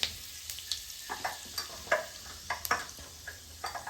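A few curry leaves hit hot oil in a pan with low gas, giving a steady close sizzle broken by small crackles and spatters, plus light stirring clinks.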